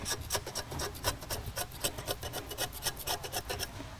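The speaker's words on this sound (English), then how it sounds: "you just scrape the entire thing around" A knife blade scrapes old adhesive tape off the frame of a rugged laptop's touchscreen, making steady, rhythmic rasping strokes at close range, fairly quiet and with no talk.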